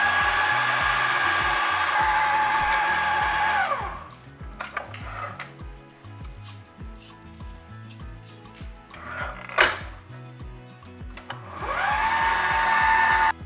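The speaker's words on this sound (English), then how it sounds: "put it in the mixer and use the mixer to mix this for us" An electric mixer whirs loudly and steadily while mixing whole wheat bread dough, then stops for several seconds of quieter clatter and handling before starting up again near the end.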